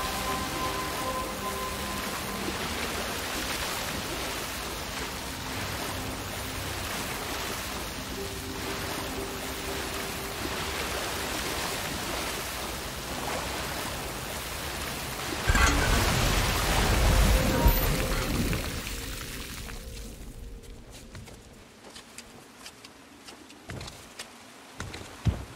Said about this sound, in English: There comes the waterfall.